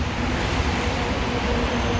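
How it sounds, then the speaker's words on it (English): A Washington Metro train rolls into a station with a steady rumble and faint wheel squeal, moderately loud and unbroken, with no talk over it. "there's a train pulling in right now"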